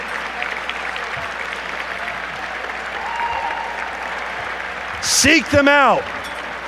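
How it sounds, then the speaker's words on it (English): Applause from a gala dinner audience honoring scholars at an annual classical studies gala, a steady broadband wash of clapping across the room while someone speaks over it, followed by a brief burst of whistle-like squeals near the end. "Give them a round of applause."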